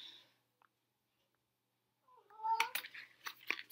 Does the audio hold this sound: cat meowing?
yes